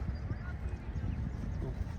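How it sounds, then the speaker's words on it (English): Wild burros walk through a small desert ghost town, their hooves clip-clopping in a soft irregular rhythm nearby, with low rumbling outdoor background and faint speech. "you can run across a lot of these donkeys. They're wild burros"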